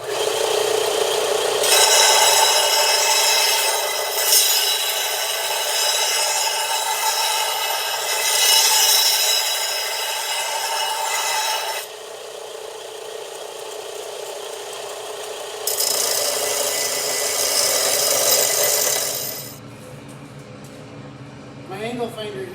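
A grinder rasps away a thin metal corner on a Club Car golf cart roll cage in loud, sustained bursts that surge and ease over about twenty seconds, with a voice talking over it.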